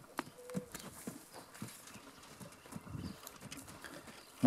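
A young Criollo colt's hooves clip-clop lightly and irregularly at a moderate distance, with faint bird calls and soft background rustle, no talking.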